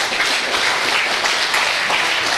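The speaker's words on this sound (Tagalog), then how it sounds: "Malakas na palakpak sa ating Panginoon." A congregation applauds in church at a Resurrection service, a loud, continuous wash of many hands clapping, close and full, with no talk over it.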